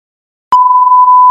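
A high-pitched electronic tone imitating tinnitus ringing in an older person's ear. It is one steady, piercing beep of about a second, loud and alone, with a sharp click at its start and at its end.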